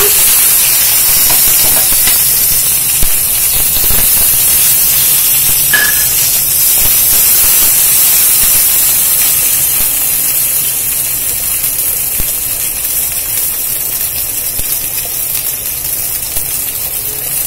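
Steady, loud sizzling and hissing of hot oil continues throughout, as urad dal and onions fry in a pan for a South Indian chickpea and drumstick curry tempering, with no talking.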